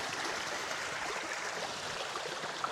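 A river in Bailen, Cavite, flowing with a steady, even rushing and babbling of water, moderately close and fairly quiet, with no voices over it.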